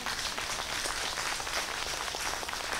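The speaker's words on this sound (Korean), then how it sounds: "박수 한번 쳐줘요." An audience at a Buddhist dharma assembly applauds, a steady, dense wash of clapping from many hands that stays even throughout, with no voices heard over it.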